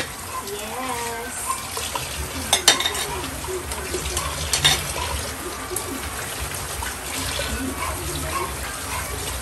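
Rice is rinsed under running tap water, a close, steady splash and trickle with occasional knocks of the pot, while people talk over it in Filipino.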